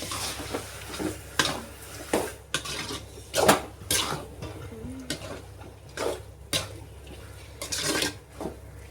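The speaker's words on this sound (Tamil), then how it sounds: "எல்லாத்தையும் ஒட்டுக்கா போட்டு கலக்கிக்கலாம்" Ginger garlic paste being stirred in a cooking pan for a chicken curry, with repeated metallic scraping and clinks of a spoon against the pan in irregular strokes, fairly close and moderately loud, no talking.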